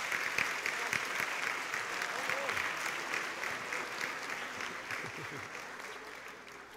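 A church congregation applauds for a newly baptized baby during a morning service, a full crowd clapping steadily that slowly fades, with scattered voices underneath.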